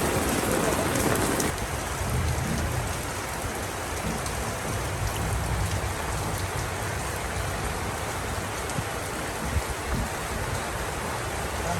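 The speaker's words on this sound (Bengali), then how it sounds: "এই যে দেখুন বৃষ্টি হচ্ছে" Heavy rain pours down steadily, a dense hiss of drops hitting surfaces close by, with a louder burst at the start and faint voices under the downpour.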